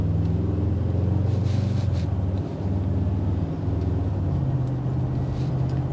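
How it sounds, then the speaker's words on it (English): Low, steady rumble of a 2024 Mercedes-Maybach GLS600's bi-turbo V8 idling at low RPM on 22-inch wheels, a smooth, deep drone heard from inside the cabin with a slight dip midway. "Listen to that bi-turbo V8."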